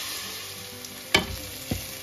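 Cumin powder and other spices fry in a pan for a chicken curry, making a quiet, even sizzle interrupted by two sharp spatula scrapes against the pan.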